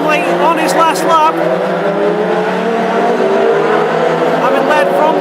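Classic hot rod race cars lap the oval at Northampton during a 20-lap heat, their loud engines droning and revving continuously beneath a commentator's speech.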